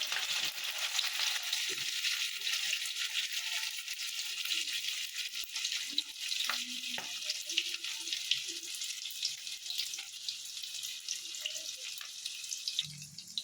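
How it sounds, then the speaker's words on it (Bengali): Chopped ginger fries in hot oil in a pan, giving a steady, close sizzling hiss throughout with faint occasional stirring clicks, no voices. "আদা কুচি ভাজা ভাজা হয়ে গেছে"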